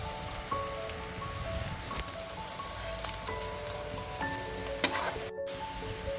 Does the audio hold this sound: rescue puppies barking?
no